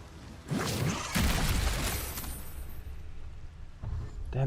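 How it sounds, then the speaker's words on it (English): Chain lightning spell cast in Baldur's Gate 3, heard as a series of sharp crackling bursts and crashing impacts that surge and then fade, with a final burst near the end. "One nice little chain lightning in there."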